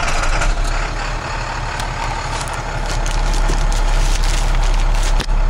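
A truck engine, a vehicle with intermittent wipers, tilt wheel and CD player, is fired up and settles into a loud, steady, rumbling idle that runs close and unbroken, with no talking over it.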